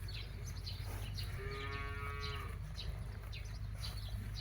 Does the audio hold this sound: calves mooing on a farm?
yes